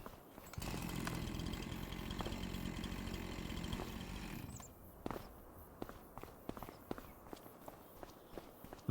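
A chainsaw in the Farming Simulator 25 game buzzes loudly and steadily for several seconds, then cuts off, leaving scattered light clicks and thuds.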